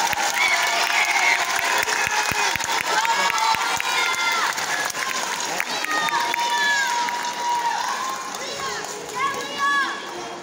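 Applause at a Christmas concert, with a crowd clapping steadily as a group of performers comes on to play, mixed with cheers and children's shouts and squeals, easing off slightly toward the end.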